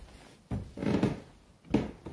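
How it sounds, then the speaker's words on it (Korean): Footsteps on creaking wooden stairs in an abandoned house: two or three heavy, muffled thuds with a groaning creak under them, close and unhurried, no talking. "계단 밟는 소리 정말 너무 싫어"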